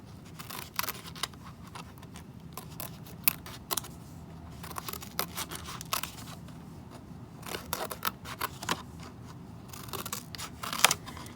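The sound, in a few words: scissors cutting paper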